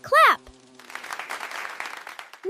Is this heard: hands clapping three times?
yes